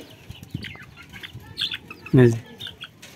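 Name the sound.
chickens clucking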